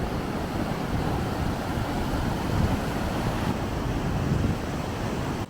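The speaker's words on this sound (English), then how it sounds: "Get some incredible waves here, Al, don't you?" Ocean surf rolls and breaks on the shore at Gran Canaria, a continuous roaring wash with swelling surges and some wind rumble, no speech.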